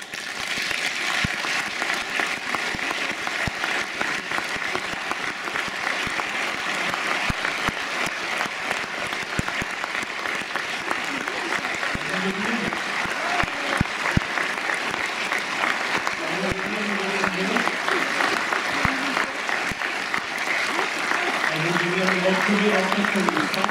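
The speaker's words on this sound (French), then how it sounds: "je vous demande de faire un tonnerre d'applaudissements pour Catherine et Hélène Zay." Sustained applause from a large audience at an evening ceremony honoring Catherine and Hélène Zay, a steady dense roar of clapping lasting throughout, with a few voices and cheers rising faintly beneath it toward the end.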